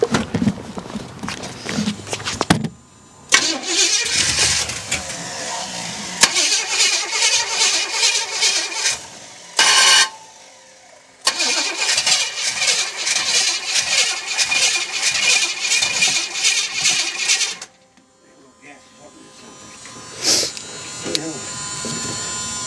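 An old bus engine cranking and trying to start, long loud churning bursts with brief pauses between attempts, close by.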